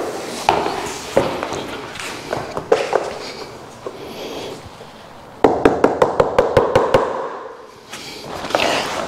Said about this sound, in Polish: Tylko pukam, słuchajcie. Pukam, cały czas pukam.